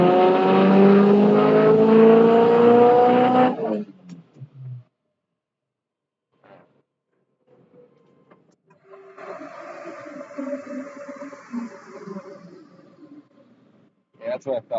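Turbocharged Subaru Legacy GT with a rotated turbo and aftermarket intake manifold, revving hard on a dyno during a tune: a loud, sustained high-rpm engine note that cuts off, then a quieter idle-like hum with some talk.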